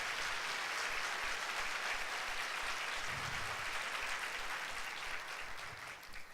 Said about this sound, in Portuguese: Quem recebe aí, por favor, dê um aplauso